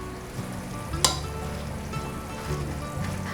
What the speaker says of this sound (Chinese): 把青江菜放进来烫，